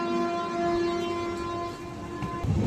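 Train rumbling past on the tracks beside a stationary AC chair-car coach, a steady close roar with a sustained tonal hum throughout and a brief rattling burst near the end, no voices.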